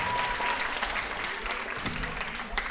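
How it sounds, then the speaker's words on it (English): Audience at a school live event applauding steadily, a dense, even patter of many hands clapping at moderate distance, continuing without a break. "Give him a round of applause."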